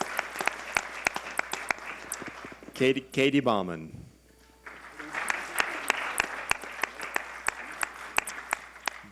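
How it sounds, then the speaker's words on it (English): Audience applause for people being called up one by one, a steady patter of many hands clapping throughout while a voice reads names over it near the middle. "You're welcome to give them a round of applause as we say their names."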